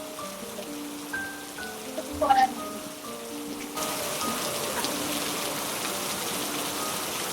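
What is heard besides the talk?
rain falling outside during a thunderstorm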